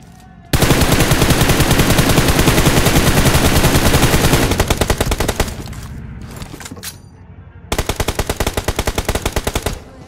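Rapid bursts of gunfire fill a mobile battle royale match, a long sustained volley followed by shorter broken strings of shots and a final burst, loud and close.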